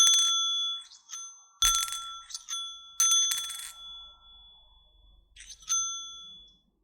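A British 1p coin rings out in bright metallic pings, with a few separate strikes and short decaying tones that are clear and close in a quiet room.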